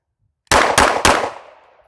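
Three rapid, sharp pistol shots from a Springfield Armory Echelon 4.0C, loud and close, evenly spaced about a quarter second apart, followed by a short echoing decay.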